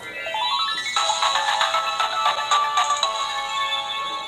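Electronic tune played by an UglyDolls plush toy when its belly is pressed: a quick rising run of tones, then a bright, steady chiming melody, loud and close with no voices.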